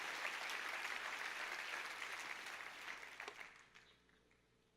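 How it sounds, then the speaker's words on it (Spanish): A church congregation applauds in a steady broadband patter that holds for about three seconds, then thins and fades toward the end, with a few isolated claps and a sharp final hit. "Dale fuerte ese aplauso al que vive por los siglos de los siglos."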